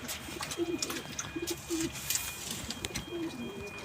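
Several pigeons coo repeatedly in soft, throaty bursts, close by, with occasional higher chirps and a steady hum behind them.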